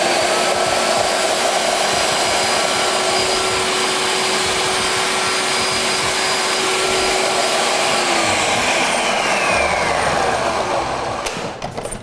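A food processor runs loud and steady with a broad whirring roar, pulsing olives into tapenade; the motor noise holds nearly constant and then cuts out near the end.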